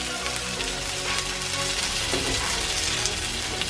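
Corn and zucchini fritters fry in a pan, giving a dense, continuous hiss of sizzling oil that stays loud and steady without pause.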